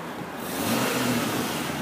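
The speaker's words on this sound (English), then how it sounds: "I'll let you listen to the engine." A 1998 Jeep Grand Cherokee Special Edition engine runs, a steady close rumble that swells slightly as if revving briefly, with no talk.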